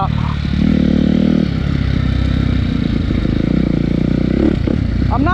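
A Suzuki RM-Z250 dirt bike engine on a test ride, loud and close, holding a steady buzzing drone with a sharp rev rising near the end.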